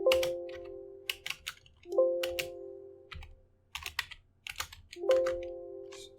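Bursts of computer keyboard typing come in quick clusters of close, crisp key clicks, separated by short pauses, over a faint low background hum.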